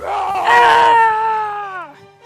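A human voice imitates an inhuman creature's scream with a loud, strained wail that rises harshly and then trails off into a falling, fading moan over about two seconds.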